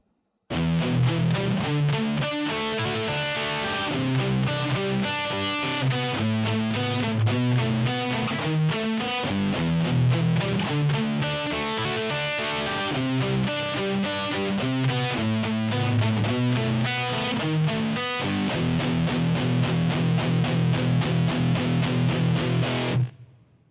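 Distorted electric guitar plays a picked, palm-muted harmony line with chugging repeated notes, loud and close, continuing alone for over twenty seconds before stopping abruptly.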